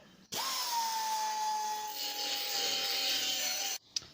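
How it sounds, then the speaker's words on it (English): A finger sander runs steadily for about three seconds, smoothing the edge of a cut metal patch on a car bonnet, with a sustained whine that starts and stops abruptly and no talking. "finish her off with a finger sander"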